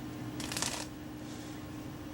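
A deck of playing cards cut by hand in a line cut, giving one short crisp riffling rustle followed by a fainter brief shuffle, close up and alone.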